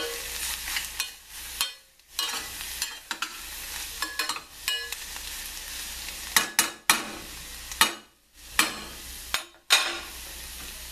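Onions frying in a pan: a steady sizzle with repeated scraping and stirring strokes, fairly close, no voices.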